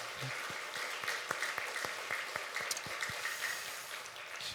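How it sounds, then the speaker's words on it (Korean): Church congregation applauding during a Sunday worship service at Seoul Sujeong Church, a steady wash of many hands clapping with occasional sharper individual claps standing out, moderately distant and even throughout. "우리 하나님 앞에 영광 감사 박수 한번 올립시다."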